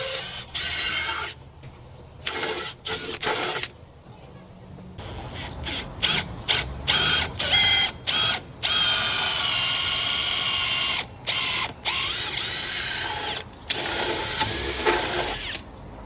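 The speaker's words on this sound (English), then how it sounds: "Just drilling the holes there for the threaded rod to go through." Power drill boring holes through roughly 200-year-old wooden beams for threaded rod, running in repeated bursts of high whining motor with short pauses between, loud and close, the runs getting longer toward the end.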